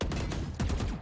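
Rapid bursts of rifle fire in a tactical shooter match, several quick shots cracking loudly in close succession over a brief moment, with no talking.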